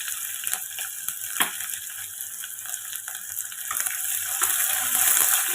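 Curry leaves and finely chopped onion fry in a pan, a steady close sizzle with crackling pops that grows slightly louder toward the end.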